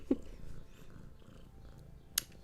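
A kitten purrs softly and continuously up close, a low rumbling drone broken by a couple of brief sharp clicks.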